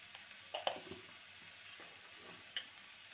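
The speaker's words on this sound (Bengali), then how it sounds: "সমস্ত কিছু ভালো করে নেড়ে নেব।" A spatula stirs tomato with ginger, garlic and spices in a frying pan for egg ghugni. A faint sizzle runs underneath, with a few soft scrapes and clinks of the utensil against the pan.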